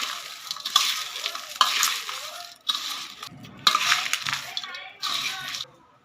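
Spiced poha chivda is tossed and mixed with powdered sugar and red chilli. Close, crunchy rustling and scraping come in short repeated bursts, with a voice faintly present.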